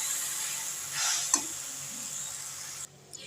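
Jaggery and sugar melting in a pan while making chalta and kul pickle, a close hiss of sizzling with a scrape or two of stirring, steady and then cutting off near the end.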